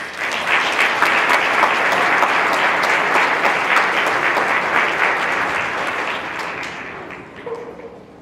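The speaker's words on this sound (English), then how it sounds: "Let's once again give all of the Miss contestants a round of applause." Sustained, loud audience applause at a county pageant honoring the Miss contestants, steady clapping from a full room that tapers off near the end.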